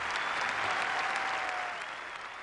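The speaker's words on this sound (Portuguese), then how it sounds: "O Papa foi interrompido 39 vezes pelos aplausos." A large crowd of worshippers at St. Peter's Square applauds Pope Benedict XVI, a dense, steady wash of distant clapping that holds throughout and eases slightly toward the end.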